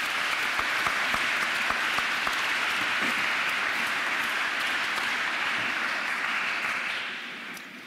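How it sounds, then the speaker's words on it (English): Sustained applause from a crowd at an athletic awards ceremony, steady and dense with many hands clapping, fading slightly toward the end. "let's thank them for their generosity with a round of applause."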